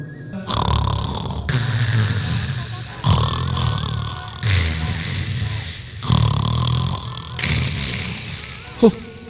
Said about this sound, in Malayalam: ഭാര്യ കൂർക്കം വലിച്ചുറങ്ങുന്നു